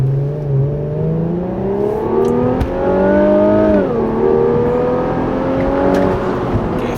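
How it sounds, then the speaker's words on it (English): An Infiniti Q50S launching hard from a standstill to 60 mph, engine note climbing steadily through the revs with a brief dip at a gear change before rising again, loud and close inside the cabin, no talking. "Zero to 60 in the Infiniti Q50S."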